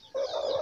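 A brooding hen sits on her eggs and lets out one loud, close, drawn-out cluck that starts abruptly and holds steady to the end.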